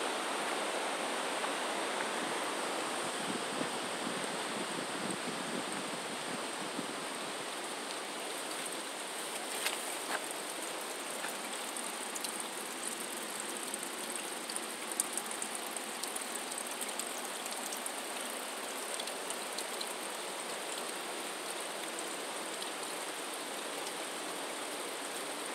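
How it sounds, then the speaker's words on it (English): Water cascading off a forested mountainside makes a steady, full broadband rush like a stream or small waterfall, continuous and even throughout, heard from nearby with no talking. "You just got water cascading off this mountain."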